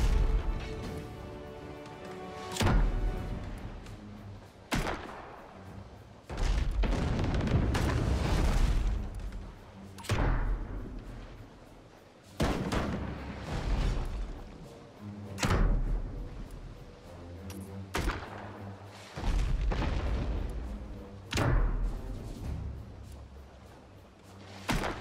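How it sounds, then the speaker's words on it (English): Repeated heavy booming blasts from a flame cannon in the video game Abandon Ship, fired in uneven bursts every couple of seconds, loud and close with a continuous rumbling background. "I like that flame cannon."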